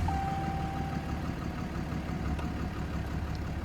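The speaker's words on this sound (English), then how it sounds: "we're gonna start the engine" A truck engine with a 68RFE automatic transmission idles steadily at low volume, a continuous low rumble with a faint brief whine near the start and no talking.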